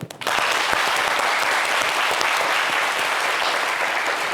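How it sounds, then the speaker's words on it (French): A studio audience on a talk show breaks into loud, sustained applause, dense clapping starting abruptly and continuing evenly to the end. "Ça s'applaudit"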